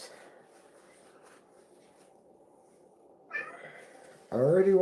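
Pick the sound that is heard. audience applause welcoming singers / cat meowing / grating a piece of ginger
cat meowing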